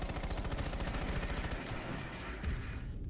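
Rapid automatic gunshots in Rainbow Six Siege, a steady close stream of rounds that breaks off about halfway, followed by scattered shots and one heavier bang near the end.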